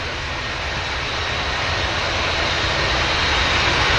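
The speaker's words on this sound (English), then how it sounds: "757 27-year-old airframe classic airliner. Heading back up to Reykjavik in Iceland." Jet engines of a 27-year-old Boeing 757 airliner at Manchester Airport, bound for Reykjavik, give a steady, loud, broadband roar that swells slightly over the span, with no voices present.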